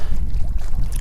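Strong wind gusts buffet the microphone at a choppy mountain lake, a loud, close roar with uneven pulses over one second.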